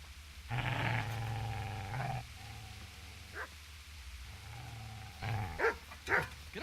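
A dog in Kingdom Come Deliverance growls and then lets out a few short barks close by, with quiet gaps in between.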